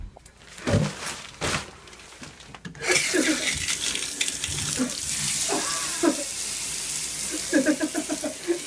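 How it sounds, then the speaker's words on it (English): A shower runs while something is rinsed under it, a steady hissing spray with intermittent splashes, close and fairly loud, and brief voice-like bursts come through partway. "rinse it in the shower"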